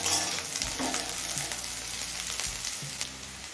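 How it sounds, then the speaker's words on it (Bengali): Onions fry in a pan with a dense, continuous sizzle and occasional soft stirring scrapes, close and steady for the whole stretch with no voices. "পেঁয়াজটা দিয়ে তিন চার মিনিট ভেজে নিয়েছি পেঁয়াজটা হালকা লাল হয়ে গেছে"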